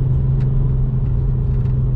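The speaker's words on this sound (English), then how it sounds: "What's the most annoying thing about this car exhaust is when I bought the R36 Passat" A Volkswagen Passat R36 exhaust with its silencer boxes removed gives a steady, deep, loud rumble at idle, close up and unbroken, with no voices.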